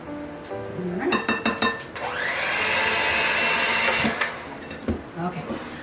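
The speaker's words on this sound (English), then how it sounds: "Beat together the cream cheese, the butter, and the vanilla." An electric mixer whirs for a couple of seconds, beating cream cheese, butter and vanilla, framed by clinks and knocks of a bowl and utensils, with a voice talking before and after.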